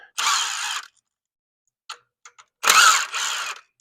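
Ratchet with a 10 mm socket loosening ignition coil pack bolts on a 2005 Toyota Camry 2.4 liter engine, two short bursts of rapid clicking separated by a few faint ticks, close and alone.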